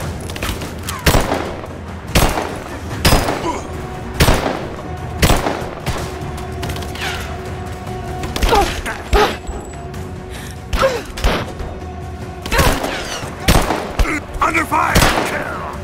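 Firefight gunfire in Rise of the Tomb Raider: loud, irregular shots and short bursts crack out across the whole stretch, mixed with thuds and background combat noise, with occasional voices shouting.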